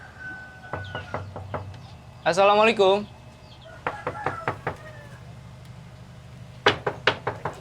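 Sharp knocks on the door of a house come in short bursts of several raps, once near the start and again at the end. A person speaks a greeting between the knocks, and a rooster calls briefly in the background.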